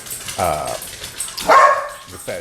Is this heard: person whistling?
no